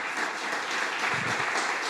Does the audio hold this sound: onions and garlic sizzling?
no